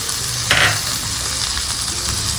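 Onion, grated ginger and peas sauté for upma in a pan, giving a steady, close frying hiss throughout, with one brief louder spatter of stirring near the start.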